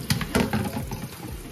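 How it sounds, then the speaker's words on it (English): Water pours steadily from a tap and splashes through collard greens in a colander, a close, continuous rushing with uneven spatter. "Place them in a colander like so that the water can run through."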